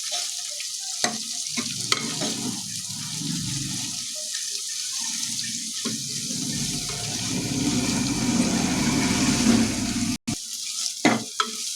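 Onions frying in hot oil with garlic and curry leaves, a loud continuous sizzle with a few scraping stirs and a brief break near the end.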